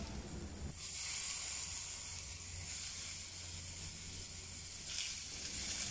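Peanut oil heating in a pan for Cantonese-style seared scallops sets up a steady, close hiss and sizzle that swells suddenly and then holds continuously, with no talking.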